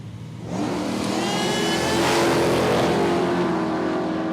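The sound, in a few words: big block Chevy ute launching at drag strip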